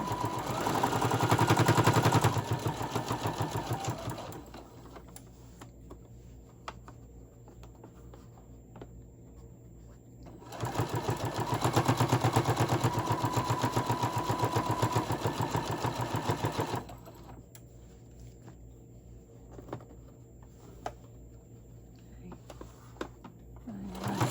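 A sewing machine stitches Christmas hot pads in rapid, rattling bursts, with a long run at the start and another mid-way, separated by quieter stretches of handling and soft speech.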